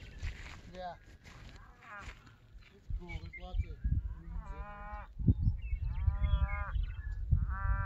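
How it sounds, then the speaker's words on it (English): Agitated cows mooing loudly at an old stage stop homestead, several drawn-out bellowing calls in the second half over low engine rumble and people talking nearby. "Cows that are mad."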